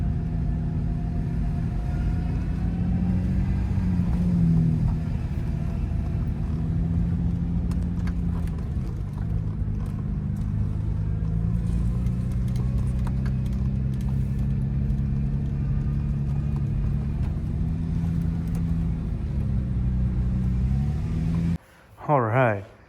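A Nissan Infiniti G35 with a freshly swapped engine drives along, its steady low engine drone and road rumble filling the cabin throughout, with a brief louder burst near the end.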